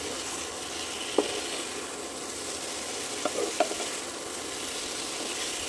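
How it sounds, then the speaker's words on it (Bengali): Cauliflower sautéed in a pan at home: a steady, close sizzle that runs throughout, broken by three faint spatula taps. "সব কপিটাই দিয়ে দিয়েছি, এবারে কষিয়ে নেবো সুন্দর করে।"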